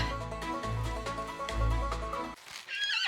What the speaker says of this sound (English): Alright, we got yourself a horse.